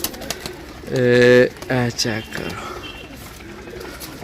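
Pigeons coo in a couple of short harmonic bursts near the microphone while the birds are handled and shown, with someone talking over and between the calls.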